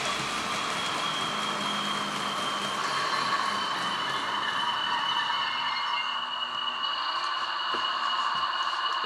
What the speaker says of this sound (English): That's the sound of the compressor running just after it came to a stand.